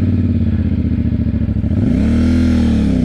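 Motorcycle engine on a rough mountain trail in Kibungan, Benguet, a close, loud chugging idle that clatters, then revs up with a rising pitch as the bike moves off, no voices.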